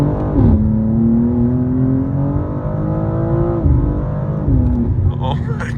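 A BMW M2 accelerates hard from close by, its engine note rising steadily in pitch with a short lift and climb again near the end, loud and continuous throughout.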